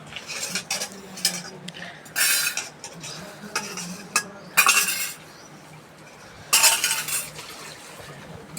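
Steel utensils and dishes clatter and clink in bursts while being washed by hand at a home sink, with irregular pauses between loud clusters of chinks.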